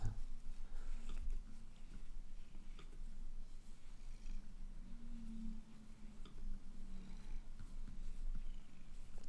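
Cat purring steadily while being petted, a low continuous rumbling purr close by with small shifts in intensity and occasional soft bumps.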